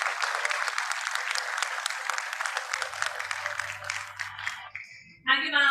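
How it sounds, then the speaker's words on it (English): Audience applause at an awards summit in Pune, honoring personalities on stage: sustained dense clapping that fades out near the end before a brief burst of other sound. "Round of applause for the super successful and inspiring personalities on stage."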